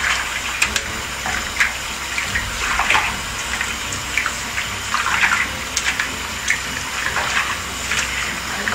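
Running water rinsing Brazilian hair extensions, a steady hiss of flowing water with irregular splashes and gushes as the strands are pulled through, close and continuous, no speech.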